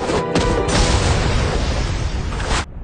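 A dragon blowing up in an anime episode: a loud, sustained broadband blast that rumbles on for nearly three seconds before cutting off abruptly.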